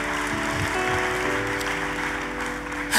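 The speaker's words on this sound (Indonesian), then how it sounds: "Tepuk tangannya yang paling meriah buat Tuhan kita." Congregation applauding at a church service, a dense, steady wash of clapping lasting about three seconds at even loudness, with a faint voice beneath and a brief louder burst at the very end.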